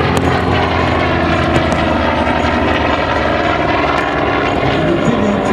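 A Douglas Skyraider, a huge single-engine propeller warplane in carrier markings, flies at the La Ferté-Alais airshow, its loud radial engine droning and growling steadily and close, with no speech.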